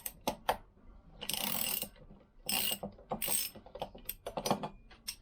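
A wrench ratchets on the engine bolts of a Lambretta scooter, with short clicking bursts and longer rasping runs of turning, close by and alone.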